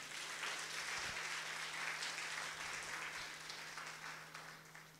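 A church congregation at a Hindi-language worship service applauds, with dense, continuous clapping from many hands that holds steady for several seconds and then starts to taper slightly.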